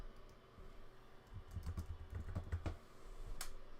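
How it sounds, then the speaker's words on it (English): Rapid clatter of computer keyboard typing, a quick uneven burst of keystrokes close by, fairly quiet in a still room with no talking. "I'm gonna type."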